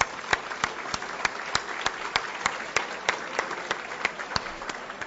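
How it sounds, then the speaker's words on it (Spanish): Sparse, rhythmic clapping at a financial stability conference, a handful of distinct claps repeating at an even pace, fairly quiet and slightly distant, with no talk over it. "Hay que aplaudir para energizarnos."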